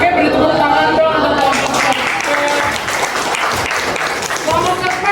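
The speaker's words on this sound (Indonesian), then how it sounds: "beri tepuk tangan dong untuk" Classroom applause during an Indonesian-language lesson, steady clapping from a group of students filling the whole stretch at close range, with voices mixed in.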